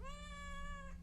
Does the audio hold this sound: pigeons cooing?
no